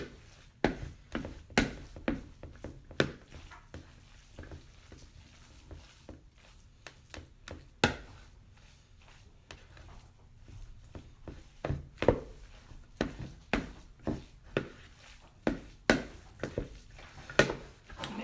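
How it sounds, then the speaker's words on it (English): Stuffed shells filling being mixed by hand in a clear bowl, with irregular soft taps, scrapes and thuds of the spoon against the sides, close and fairly quiet, with no talking. "now you want to go ahead and mix all of this up together and incorporate it really well together"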